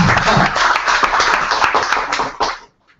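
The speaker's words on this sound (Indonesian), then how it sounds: "tanpa lama-lama kita beri tepuk tangan buat Mas Rafatnya" An audience at a business model canvas talk claps for a speaker, a loud, close burst of many hands that runs steadily and then quickly dies away to silence at the end.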